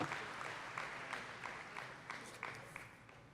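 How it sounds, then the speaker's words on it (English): Applause at a high school senior athletic banquet, a steady wash of clapping from a banquet-hall audience with scattered louder claps throughout, no voices over it. "How about a round of applause for Dave and Dara?"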